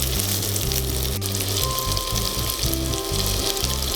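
Salmon skewers for tandoori kebabs frying in butter in a pan, a loud, dense, steady sizzle with crackling spatter that carries on throughout, close up and without talk.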